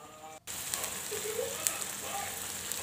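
Spices, a little turmeric and chili powder sizzle in hot oil for an egg curry, a close, steady crackling hiss with small pops, cut briefly by a short gap near the start.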